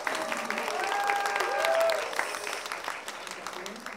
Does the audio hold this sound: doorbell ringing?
no